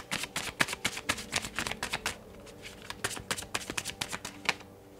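Tarot cards are shuffled by hand in quick rapid riffles and taps, two bursts of activity separated by a short pause, close and quiet.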